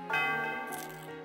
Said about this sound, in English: Oh, this is like the Liberty Bell.